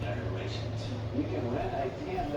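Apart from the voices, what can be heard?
No everyday noises stand out.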